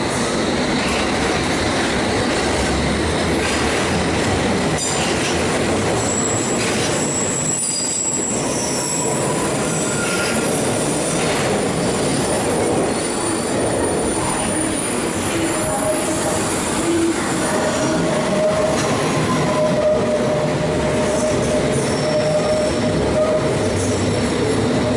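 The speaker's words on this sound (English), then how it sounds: "Departing with the next train coming in." A train at Bank station on the London Underground in the UK squeals loudly on its rails with steady rumbling wheels. It departs as the next train comes in, and shrill metallic screeches persist close by for the whole stretch.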